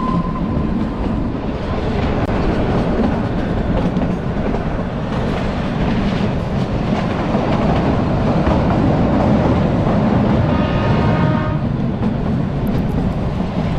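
A Kalka-Shimla heritage train winds along a sharply curving mountain track, wheels clattering in a continuous loud rumble, with a brief squeal of wheels on the bend near the end.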